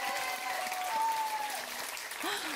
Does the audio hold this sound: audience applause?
yes